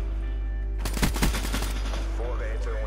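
Rapid automatic gunfire from the Call of Duty Black Ops 3 video game, a loud burst of about a second of quick shots over a steady hum, followed by quieter game sounds.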